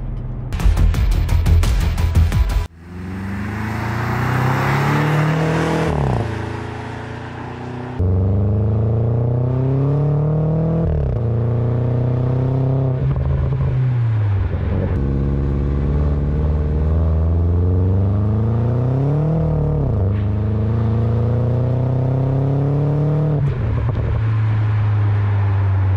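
A 600-horsepower BMW performance SUV accelerates hard and close by, its engine note climbing through a string of rising gear pulls with brief dips at each shift, loud and steady throughout with no talking.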